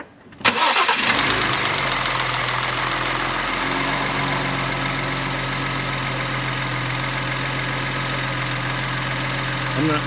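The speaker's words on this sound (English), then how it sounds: "so we're going to give it a startup, see how it sounds" Car engine cranking and catching after a FenFab charge pipe install, then settling into a steady, loud idle with a constant low drone and broadband hiss, close up and without talk.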